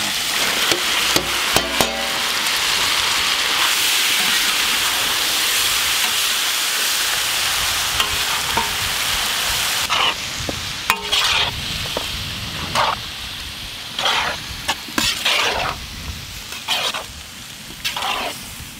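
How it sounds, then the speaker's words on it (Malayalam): Small cut pieces of boneless trevally fish hiss and sizzle in a hot pan, with a steady fry at first and then repeated scraping stirs and clinks, no one talking. "ചെറുതായി കട്ട് ചെയ്ത മീന് ഇട്ട് കൊടുക്കാം"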